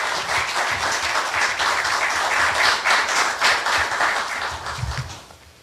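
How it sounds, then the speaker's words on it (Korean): A conference audience at Korea University's Hongneung Forum gives sustained, even applause to welcome the university president, many hands clapping loudly and steadily before fading out at the end. "큰 박수로 환영해 주시면 감사하겠습니다"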